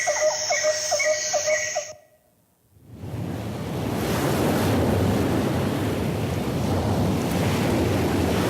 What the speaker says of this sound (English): And an ocean tumbled by with a private boat for Max